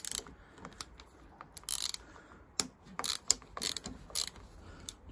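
A wrench ratchets and clicks as it undoes the clamp bolts on the front brake master cylinder of a Yamaha XV535 Virago motorcycle, giving quiet, irregular mechanical clicks and metallic rattles at close range.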